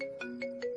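A short electronic phone ringtone in a Hindi-dubbed South Indian film plays a few quick repeating tones, bright and close, lasting under a second.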